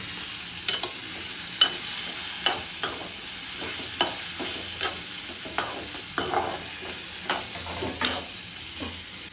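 A paneer dish fries in a pan under a constant soft sizzle, with a spoon scraping and tapping the pan every second or so, close and without talking.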